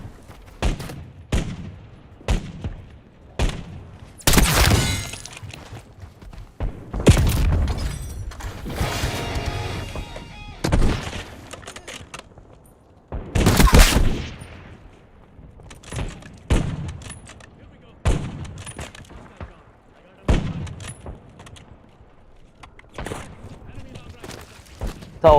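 Gunfire in Call of Duty Warzone comes in sharp separate shots and short bursts, some loud and close, mixed with clanks and impacts, with a player talking between the shots.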